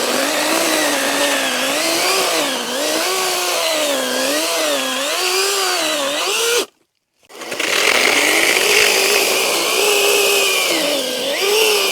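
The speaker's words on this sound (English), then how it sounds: "even with a dull chain, this electric chainsaw" An electric chainsaw with a dull chain cuts through a felled tree for firewood, its loud, close whine rising and falling in pitch under load, breaking off briefly to silence before starting up again.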